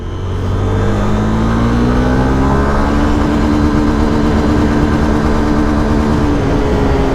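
A Honda motorcycle engine hums steadily and loudly on the road, its tone rising gradually as the bike picks up speed, with no talk over it.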